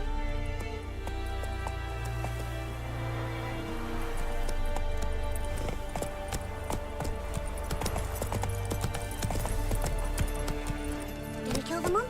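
Roach, Geralt's horse in The Witcher 3, galloping: steady drumming hoofbeats under continuous game music, with some talk in the background.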